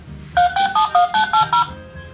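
A toy telephone plays a quick run of seven short electronic dialing beeps of varying pitch, evenly spaced and close, each key press giving a distinct tone, with no talk over them.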